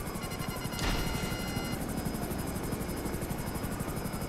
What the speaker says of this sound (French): Je vais venir avec toi parce que toi t'as un hélicoptère